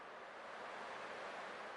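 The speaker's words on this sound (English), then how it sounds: "I can still clearly hear the sound of the waves." Ocean waves in the Honkai: Star Rail video game, a soft, continuous wash of surf with a breathy, windy texture, faint and even across the whole stretch, no voices over it.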